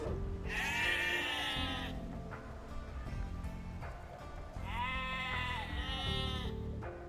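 Two sheep bleats in Age of Empires II: Definitive Edition, each a drawn-out wavering cry, sound a few seconds apart over a low background hum.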